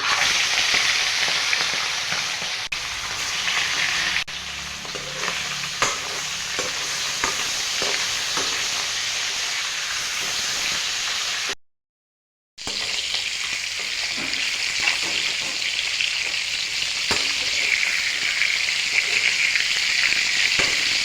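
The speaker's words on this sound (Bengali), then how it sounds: "এখন মাছগুলো একে একে ভেজে নেব।" Fish heads frying in hot oil in a wok with cumin, dried red chillies and bay leaves for a bottle gourd dish; a steady, loud hiss and crackle runs throughout, with a brief silent gap midway.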